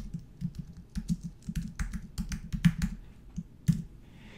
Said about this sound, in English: I'm going to type happy birthday